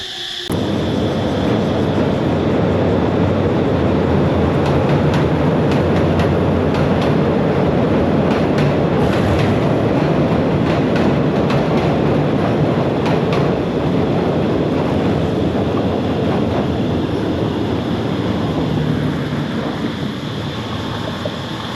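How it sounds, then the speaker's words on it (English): A train rumbles past close by on Koh Tao for a long stretch, loud and continuous with rattling and clacking over a heavy low roar. "did I just hear the sound of a train in the background?"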